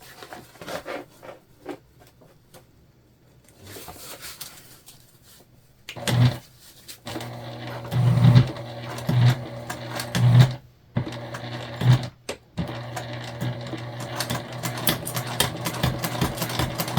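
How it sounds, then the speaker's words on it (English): A sewing machine stitches down the side of a fabric lunch bag with the gusset facing up, running in several bursts of rapid mechanical whirring separated by short pauses, close and fairly loud, with fabric handling between runs. "Now we're going to sew with the gusset side up and sew the side of our bag down."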